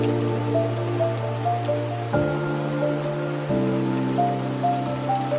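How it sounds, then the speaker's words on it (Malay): Steady rain falls on a surface as a continuous wash of fine drops, with a sustained tonal drone underneath and no talking. "awan yang berat akan turun sebagai hujan"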